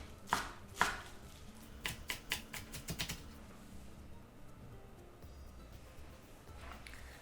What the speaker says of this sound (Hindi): बथुआ भी काट लेते हैं।